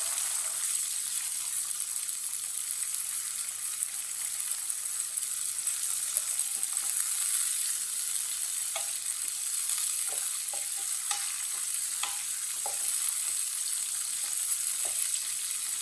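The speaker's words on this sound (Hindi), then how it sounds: "1 मिनट तक पका लेंगे सौंगी और गरी को।" Raisins and dried coconut roasting in a hot pan for dry meethi seviyan, giving a steady fine hiss of dry sizzling with occasional soft crackles and light stirring scrapes, close by and unbroken.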